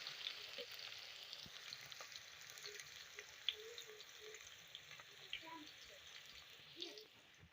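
Onions frying in a pan for an aloo keema dish, a soft, steady sizzle with occasional faint stirring clicks, quiet and even throughout.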